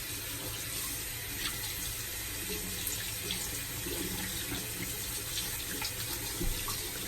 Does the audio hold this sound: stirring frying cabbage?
no